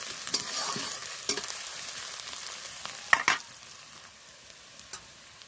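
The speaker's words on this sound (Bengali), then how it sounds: "এক চা চামচ রসুন বাটা দিলাম একটু ভাজা হলেই আমি দেবো একটু আদা" Garlic paste sizzles in hot oil alongside onions while a spoon stirs the pan, a steady fry broken by a few sharp scrapes and clicks; no one speaks.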